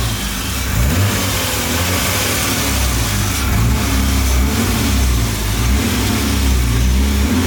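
A Nissan S13's engine runs steadily while warming up toward operating temperature, its coolant overflowing, with a continuous close low rumble and a few light revs throughout and no talk.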